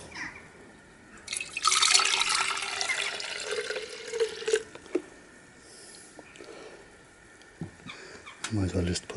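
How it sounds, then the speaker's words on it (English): Gold recovery solution poured into a jar, a liquid trickle rising then tapering off, followed by a few faint drips and clinks as a person talks nearby. "Might as well pour into this jar."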